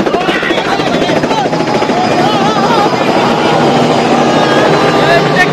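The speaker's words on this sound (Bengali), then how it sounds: "কিছুক্ষণের মধ্যেই এখানে ল্যান্ড করবে। এখনই ল্যান্ড করছে।" A helicopter comes in to land, its loud, close rotor chop and turbine whine filling the air continuously, with a crowd's voices mixed underneath.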